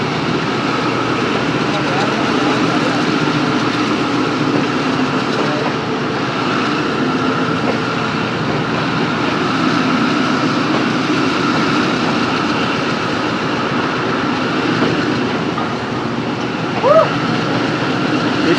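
Sialkot Express train rolling on the Lahore to Sialkot line in heavy rain, a steady close rumble and rattle of carriages running continuously, with voices talking at times over it.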